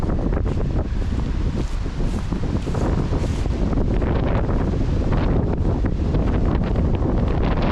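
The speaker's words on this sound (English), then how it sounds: "I know y'all catching a lot of wind" Heavy wind by a creek after Hurricane Ian buffets the microphone, a loud continuous rumble and roar with gusty bursts throughout and no voices.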